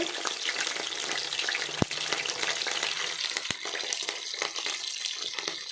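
Mustard seeds and curry leaves fry in hot oil on a low flame, a continuous crackling sizzle with a few sharp pops, close and fairly quiet.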